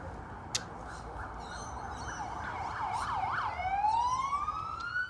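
Police sirens wail in the distance at Bondi Beach, rising and falling in overlapping cycles before one sweeps upward, heard alone without talk.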